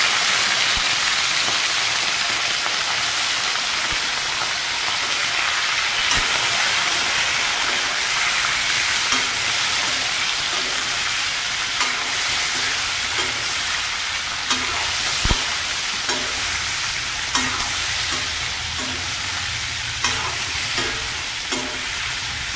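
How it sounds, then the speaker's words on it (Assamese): Pork with leafy greens fries in a hot pan in a steady, loud, continuous sizzle, with occasional soft stirring clicks and scrapes throughout and no voices. "এতিয়া মই এইটো গাহৰিটো মজাকে ডালিছো"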